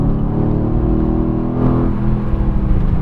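A 2017 Mercedes-AMG GT S engine pulls hard on a race track, a loud, steady in-car drone with rising harmonics as it accelerates, briefly easing and picking up again.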